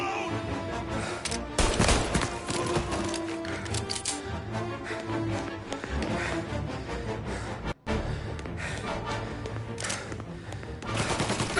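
Sustained gunfire in the Mafia 1 Remake video game, with dense rapid shots layered over game music across the whole stretch and a brief cut near the end, with no voice heard.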